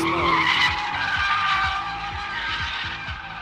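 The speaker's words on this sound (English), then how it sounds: "You really barely want to be using that throttle to get this thing around, so it'll just spin out and go up in smoke." A stock BMW 5 Series V8 drift car spins its tires, a continuous loud screeching tire squeal over a pulsing, revving engine note, close and sustained throughout.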